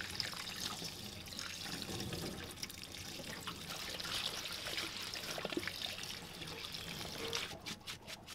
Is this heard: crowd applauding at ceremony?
no